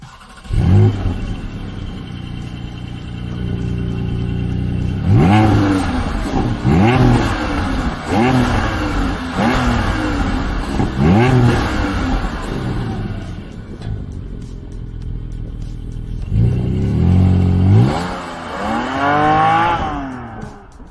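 Porsche 718 Boxster GTS 4.0 flat-six pulling away on the road, with rising rev sweeps through several gears, a lull while cruising, then another loud acceleration close to the microphone.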